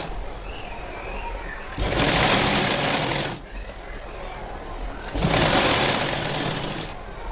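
A tailoring sewing machine stitches plain blouse cloth in two loud, steady bursts separated by a short pause, up close.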